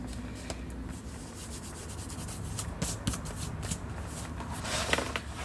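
Paper rubbed and pressed down onto card while a Christmas photo album is assembled from a card-making kit, a steady soft scraping and rubbing close by with a few sharper rustles.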